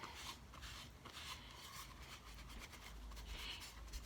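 Rubbing back wet paint to distress a finished decor item, a steady soft scrubbing rasp that continues evenly and quietly, close up with no talk.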